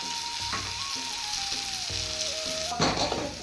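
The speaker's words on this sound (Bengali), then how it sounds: "সামান্য জিরের গুঁড়ো নিয়ে একটু কষিয়ে দেবো ভালো করে" Chilli and cumin powder sautéing in a hot pan, a steady close sizzle with scraping stirring strokes and a brief louder burst of frying near the end.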